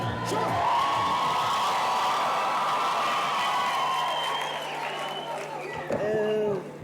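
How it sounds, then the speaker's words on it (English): Sustained loud applause from a graduation ceremony audience, dense clapping mixed with crowd noise and occasional whoops, continuing steadily for several seconds before a brief lull and renewed clapping near the end. "Can we have another round of applause for our graduates, please?"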